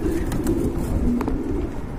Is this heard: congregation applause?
no